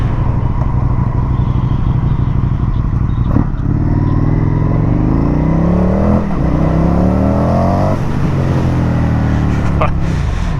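A 2023 Indian FTR 1200 Carbon R motorcycle engine drones loudly up close, revving and climbing through gear changes, with a voice talking over the steady roar.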